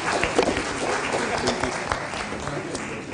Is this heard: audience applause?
yes